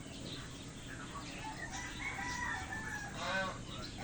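Geese and ducklings on a farm, faint calling and honking over a steady outdoor background hiss, with several overlapping bird cries in the middle, distant and low in level.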